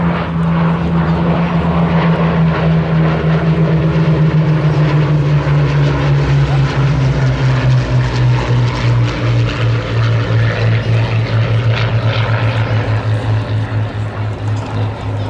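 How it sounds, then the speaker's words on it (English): A pair of Hawker Hurricane propeller fighters fly past in formation at an airshow at Sywell, their engines a loud, steady drone with a pitch that slowly falls as the aircraft pass by, heard alone without talk. "Cameras ready as the formation comes in from the right hand side."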